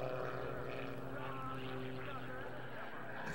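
Propeller airplane powered by a big Russian radial engine, about 380 horsepower turning near 2,800 RPM, performing aerobatics at the 1999 US Air & Trade Show in Dayton, Ohio; a steady, loud droning engine roar persists throughout with talk over it.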